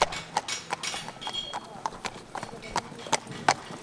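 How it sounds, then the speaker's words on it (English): A horse jogging up and down on firm ground at a show-jumping yard, its hooves giving a steady two-beat clip-clop of sharp, fairly close strikes, with faint talk in the background. "We'll jog the horse up and down here."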